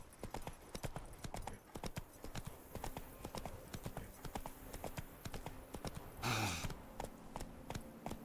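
Roach the horse trots along in The Witcher 3: Blood & Wine, hooves clip-clopping in a steady rhythm with a brief louder snort or whinny near the end, against faint background ambience.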